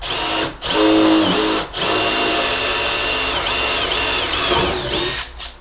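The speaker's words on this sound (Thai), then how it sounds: "แล้ววางดอกไปตรงที่เรามาร์กไว้เลยนะครับ แล้วก็เจาะ" A power drill with a bit bores into a center-punched mark, whining loudly and steadily with two brief pauses and a final stop, with no talking.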